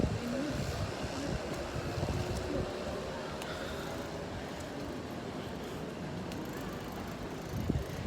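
Wind gusts outdoors in Hendaye near the ocean, a steady rushing buffeting against the microphone with low rumble, moderately loud throughout.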